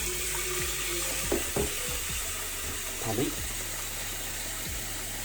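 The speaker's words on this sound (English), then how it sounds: "I fill it with cold water" Cold tap water runs steadily into a cooking pan in a kitchen sink, a constant broadband rush with a few clunks and knocks of the pan, close and moderately loud, with no talking.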